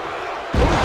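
Crowd noise in a WWE 2K25 wrestling arena during Roman Reigns vs. Seth Rollins: a steady, loud wash of cheering that suddenly swells louder halfway through, with no talking.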